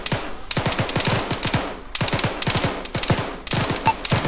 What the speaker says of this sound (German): Der Infanterie schießt hier gerade wild und ungezielt in die Bäume